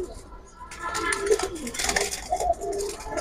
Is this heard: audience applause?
no